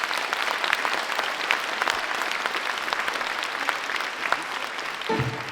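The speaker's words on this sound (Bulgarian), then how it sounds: "Моля за вашите аплодисменти" Sustained audience applause at a dance club concert, many hands clapping steadily and close, ending as a voice begins to speak.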